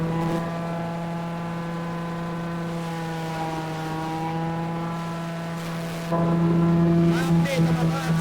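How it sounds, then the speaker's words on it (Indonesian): A motor engine drives a silage chopper machine, making a loud, steady droning hum with a strong tonal whine. It runs continuously nearby and grows louder and rougher toward the end, with a voice talking under the noise. "suaranya lumayan terganggu sama mesinnya nih"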